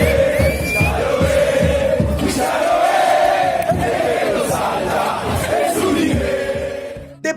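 A large crowd of Argentine football fans loudly chants a song in praise of Maradona, with rhythmic massed voices that swell and then fade near the end.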